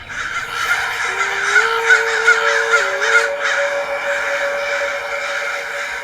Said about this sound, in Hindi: इतने सारे कौवे कैसे आ गए?